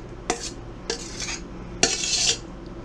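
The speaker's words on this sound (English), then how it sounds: "Scrape out that bowl" Utensil scraping coleslaw dressing from a bowl for old-fashioned Southern savory coleslaw, heard as three close, distinct scrapes, the last one longer and harsher, with no talk over them.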